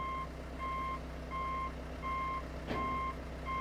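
A dump truck backing up sounds its reversal alarm in a steady series of evenly spaced electronic beeps over a low idling engine rumble, with a brief hiss partway through.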